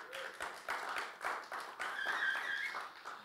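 Audience members at a CTF challenge announcement clap in a loose, fairly faint patter of scattered hand claps that holds steady for a few seconds in a room.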